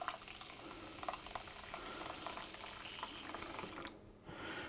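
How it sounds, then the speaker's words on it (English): Tap water runs steadily into a measuring cup in a home kitchen while baking a white chocolate raspberry cake, a close continuous rush that stops abruptly near the end. "I'm going to add some water to get us to up to 1 1/4 cups"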